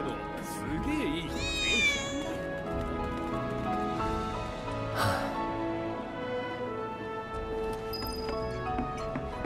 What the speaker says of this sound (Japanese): 猫の鳴き声、三兄弟かな。